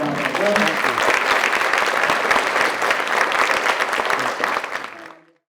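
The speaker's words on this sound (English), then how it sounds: "we want to give him a round of applause" Audience applause after a talk on a career in the Negro Baseball League, a loud, dense burst of crowd clapping that holds steady for about five seconds and then cuts off abruptly.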